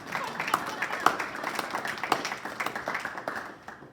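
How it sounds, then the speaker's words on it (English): Scattered applause from a few people at a school district board of education meeting, a brief burst of clapping with speech overlapping and the claps thinning out toward the end. "we were clapping for you"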